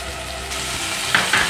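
Ginger garlic paste sizzling and frying in hot oil with browned onions, a steady close hiss with a couple of brief louder spits near the end.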